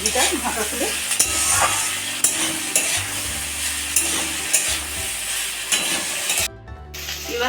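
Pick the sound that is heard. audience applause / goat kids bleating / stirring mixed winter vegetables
stirring mixed winter vegetables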